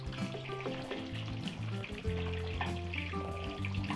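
Vegetables sizzle as they are stirred in a frying pan, a steady crackling hiss with soft scraping, heard beneath background music.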